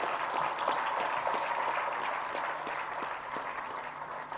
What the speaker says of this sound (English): put your hands together to give that amazing speaker a round of applause